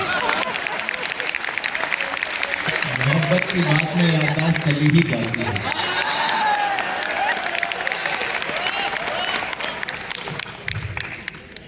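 Audience clapping at a university poetry recital (kavi sammelan) in Jammu, a steady spatter of applause running under a voice reciting verse throughout.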